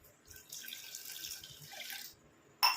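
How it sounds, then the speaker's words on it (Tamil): A tumbler of water runs steadily into a cooking pot for about two seconds, a soft gushing pour that stops, followed by a brief clink. "நல்லா ஒரு டம்ளர் அளவுக்கு தண்ணி சேர்த்துக்கலாம்"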